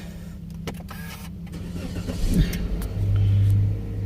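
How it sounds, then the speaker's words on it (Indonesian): Engine of an automatic car starting with the brake pedal held, a short starter crank near 2.4 s, then a steady idle hum that swells and settles, with a brief spoken word early on. "Baru kita hidupkan starternya."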